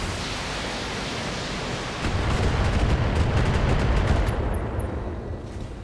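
Mech weapons firing in the Battletech video game, a dense roaring barrage of gunfire-like blasts that swells louder after two seconds and holds steady, with no talk.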